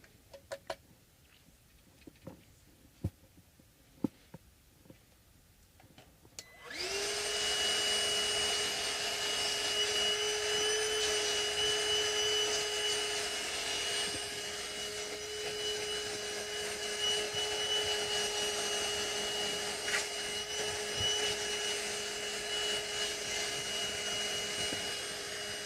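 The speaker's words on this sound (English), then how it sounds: "And let's vacuum this." A vacuum cleaner switches on after some light taps and clicks and runs steadily, loud and close, sucking up debris from a workbench in a workshop.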